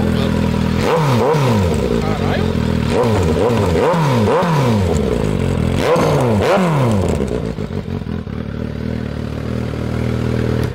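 Naked motorcycle fitted with an aftermarket exhaust revving hard in repeated loud bursts, each rising and dropping sharply, close and dominant throughout, then settling to a rough idle near the end.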